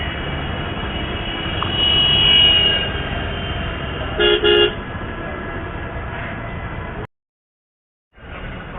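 A rumbling mini metro train in Meerut, India rolls past with a long, loud horn blast and a couple of short toots, heard from nearby amid steady rail noise.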